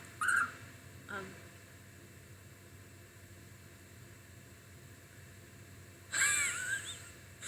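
During a livestream, a bird-call alert sound chirps in short bright bursts: one near the start, a brief chirp a second later, and a longer trill around six seconds in, with quiet hiss between them.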